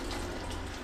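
Water runs from a kitchen sink tap while food is washed, a brief, steady splashing rush heard close and alone.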